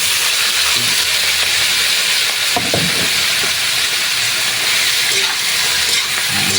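Pork innards (isaw) fry in a pan for adobong pinatuyo, giving a loud continuous sizzle and hiss with a few brief clatters of stirring partway through, no talk.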